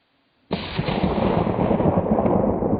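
A single loud rifle gunshot fired while hunting mule deer on opening day in Washington, bursting suddenly out of near silence and followed by a long, rolling echo that decays slowly through the outdoor air.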